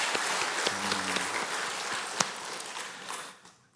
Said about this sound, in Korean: 다시 한번 부활하신 그 주님께 큰 영광의 박수 올려드립니다.